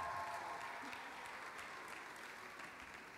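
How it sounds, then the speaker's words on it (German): Audience applause at a morning winter festival gathering, a steady, even wash of clapping from a crowd at moderate distance that thins slightly as it goes on. "nochmal Applaus"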